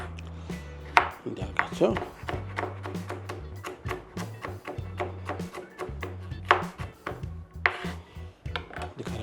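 A knife chops green beans on a cutting board with a steady run of sharp, close chops. A voice speaks briefly over the chopping.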